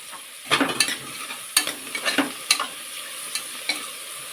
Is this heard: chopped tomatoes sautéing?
yes